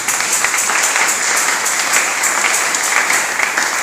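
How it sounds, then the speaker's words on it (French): A church congregation applauding together, sustained dense clapping at an even level from start to end, fairly close, with no talk over it. "Acclamons pour la gloire de Jésus."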